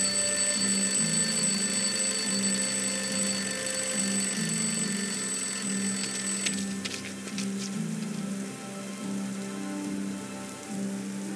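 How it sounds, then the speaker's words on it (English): An alarm clock rings in the Lost Horizon video game, dropped in a rubbish bin. It gives a steady, bright, continuous ring for several seconds, then stops. A low, rhythmic background hum and a rain-like hiss continue after it. "I'll place the alarm clock in the rubbish bin. Let's see what happens when it goes off."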